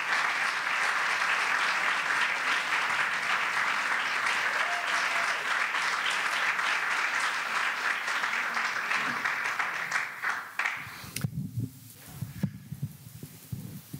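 An audience at an art lecture applauding to welcome the speaker, a sustained wash of many hands clapping that tapers off, followed by shuffling and a voice starting to speak.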